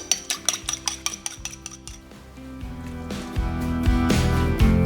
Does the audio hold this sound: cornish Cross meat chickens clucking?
no